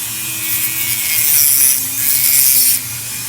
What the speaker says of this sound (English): The other way we can frag this candy cane coral right here is with our Dremel.